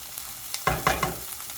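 Chili frying in a pan with garlic and onion gives several short, close bursts of sizzling as it is stirred, over a quiet background.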